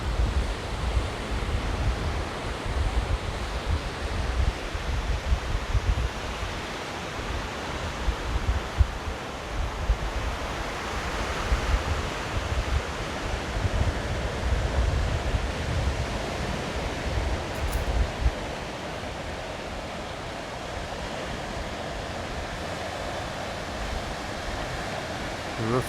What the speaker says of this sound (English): And that's the Atlantic Ocean.